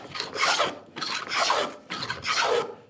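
A wooden moulding plane is pushed along a wood stick to cut a profile, giving three rasping, shaving strokes in a row with short pauses between, close and fairly quiet.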